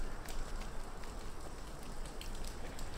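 Steady rain in a video game patters and hisses with scattered droplet ticks, a dense, even wash of sound at moderate volume.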